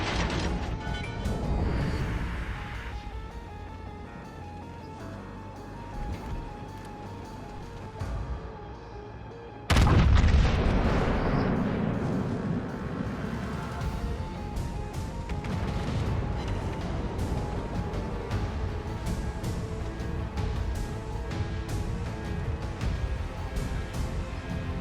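The battleship Musashi in a naval video game takes artillery fire: a continuous roar of battle and mechanical noise is broken by a sudden heavy boom, followed by sustained rumbling explosions and clatter.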